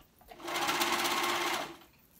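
A sewing machine runs in one steady burst of rapid stitching as it joins the raw edges of a hoodie's bottom and middle sleeve pieces, starting and stopping cleanly with no talk over it.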